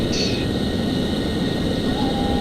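An F-14 jet in the Flight Simulator X game, a steady loud engine roar and whine held throughout with no break.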